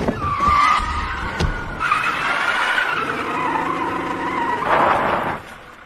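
A car in a film skids with a sustained tire squeal, then brief sharp impacts and a rumbling, rattling stretch before another burst of screeching noise, all loud and close.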